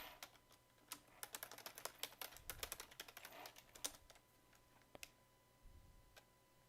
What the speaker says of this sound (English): Let me type in the chat.